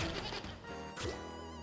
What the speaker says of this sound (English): I really don't like those goats.